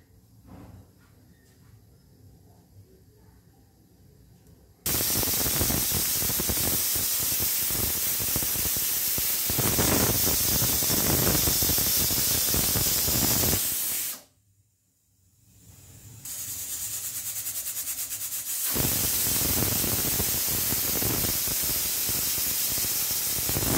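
A pressure cooker cooking vegetables on a gas stove releases steam with a loud, sustained hiss. It stops abruptly for about two seconds, then surges back strongly.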